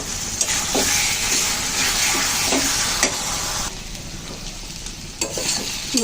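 Cabbage fries and is stirred in hot oil in a pan while cooking an ilish (hilsa) fish bhaturi dish. A steady sizzle runs throughout, with scraping stir strokes recurring at close range, and there is no talk.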